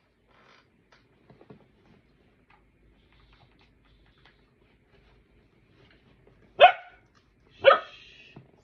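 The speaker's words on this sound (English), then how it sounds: "Apologies about the dogs." Border collies give two sharp, loud barks close by, about a second apart, after a stretch of near silence with faint soft shuffling.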